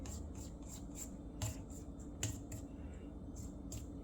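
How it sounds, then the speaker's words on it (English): A spatula scrapes the sides of a mixing bowl of oatmeal raisin cookie dough, giving soft, quiet rubbing strokes broken by a few sharper scrapes, close up with no voices. "remember to pause in between and scrape it down, scrape the side"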